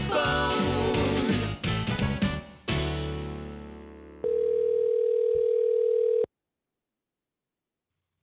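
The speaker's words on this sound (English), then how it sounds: "let's pick up the phone" Telephone dial tone after a handset is picked up during a country radio call-in show, a steady loud hum lasting about two seconds, preceded by a burst of music and followed by silence.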